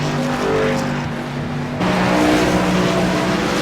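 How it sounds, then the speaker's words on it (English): A race car brakes hard and threads through the uphill S-bends at Sonoma Raceway, engine note dropping then surging again with tyre scrub, loud and close, with other cars audible. "Springer heavy on the brakes there as Cobb now makes his way through the S's"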